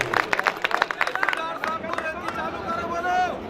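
Crowd at a mushaira poetry gathering clapping, quick sharp claps up front that spread into a broad, rumbling applause with crowd noise and voices mixed in.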